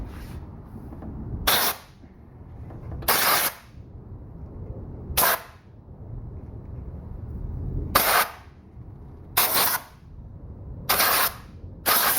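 Short bursts of compressed air blow dust out of the intake of a 3.75 hp Murray lawn mower: six sharp, loud hissing blasts separated by quieter pauses with a low background rumble.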